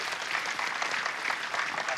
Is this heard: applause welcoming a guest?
yes